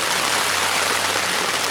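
A heavy downpour at a river island campsite makes a dense, loud, unbroken hiss of rain pounding the surfaces nearby. No voices break through it.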